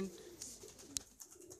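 White Madrasi pigeons coo softly in a pen, a faint low murmur with a few brief sharper clicks, heard quietly without speech.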